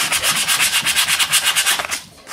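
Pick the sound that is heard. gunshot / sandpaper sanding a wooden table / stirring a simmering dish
sandpaper sanding a wooden table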